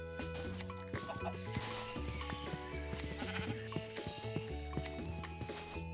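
Sheep in Minecraft bleat again and again, several overlapping calls in an uneven rhythm over a steady game backdrop, moderately loud with no talking.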